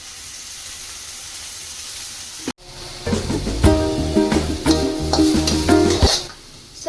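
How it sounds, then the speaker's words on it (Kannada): Bitter gourd (karela) roasting in oil in a pan: after a brief quiet hiss, a sudden loud sizzle and crackle erupts as it hits the oil, then stays steady and close with stirring scrapes. "ನಾನು ಎಣ್ಣೆ ಕೂಡ ಹಾಕಿಬಿಟ್ಟು ಹುರ್ಕೊಳ್ತೀನಿ."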